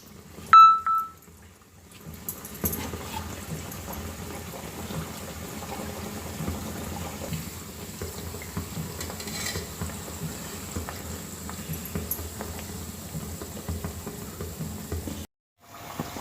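Donuts frying in hot oil, a continuous soft bubbling patter that runs steadily and close after a brief clink at the start, then cuts out near the end.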